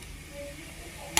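Whole biryani spices (shahi jeera, cinnamon, cloves, cardamom, bay leaf) fry in hot ghee with a soft, steady sizzle, close and faint, ending in one sharp stirring scrape.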